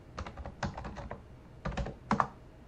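Typing on a computer keyboard while writing code, short bursts of close, crisp key clicks in uneven clusters separated by brief pauses.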